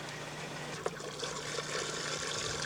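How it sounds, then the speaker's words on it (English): Hot water pours into a Bambini tank in a constant hissing, gurgling rush that holds steady for a few seconds without a break. "when you're filling your Bambini with hot water"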